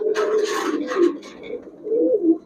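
A large pigeon of the Pallā line, kept by a seller, gives low, throaty coos in two close rolling phrases, loud and near, with no talk over them.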